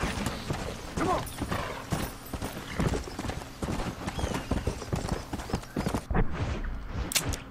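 A horse gallops in the Red Dead Redemption video game, its hooves beating out a steady, loud clip-clop rhythm with mechanical tack rattles, continuous and close throughout.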